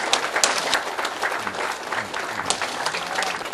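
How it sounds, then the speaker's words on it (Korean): An audience at a church gathering claps in a dense, steady burst of applause lasting a few seconds, moderately close, with no talking over it. "박수 한번 주시고"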